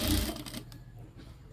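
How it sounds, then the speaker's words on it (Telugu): A sewing machine runs a brief burst of stitching to sew gathers on a frock, loud at first and then trailing off quickly. "ఇలా పట్టుకుని ఇందాక మనం వేసిన కుట్టు ఉంటుంది కదా అదే కుట్టు మీద ఇట్లా కుట్టుకెళ్ళిపోవాలి"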